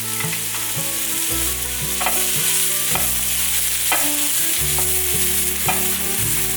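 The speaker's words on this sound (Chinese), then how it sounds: "油热了之后放入姜末，把姜末炒一炒，炒香" Minced ginger, shiitake mushrooms and celery stir-fry in hot oil, with a steady sizzle broken by regular spatula scrapes, all beneath background music.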